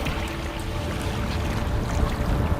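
Solo canoe paddling on an open lake, with steady water wash and wind noise close by, broadband and continuous without distinct strokes standing out.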